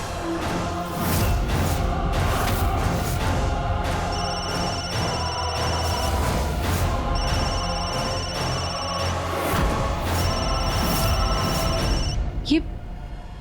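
A telephone rings indoors in a household drama scene, three repeated electronic ring bursts over a busy background of music and voices, with people talking throughout.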